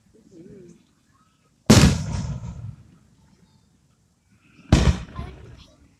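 Canada Day fireworks bursting outdoors, two sharp loud booms each trailing off into a crackling, rumbling decay, separated by a few seconds, with people chatting quietly in between.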